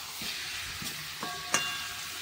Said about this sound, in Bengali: চলো এখন চিকেনটা বেশ হালকার ওপর ভাজাভাজি করে নিই